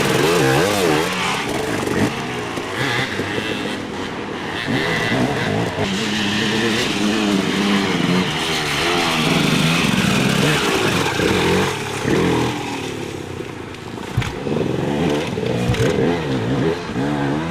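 Motorcycles race around a raceway, loud high-pitched engines revving and wavering continuously as bikes accelerate and pass, with revs rising and falling throughout.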